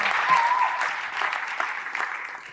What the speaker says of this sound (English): Give a hand of applause.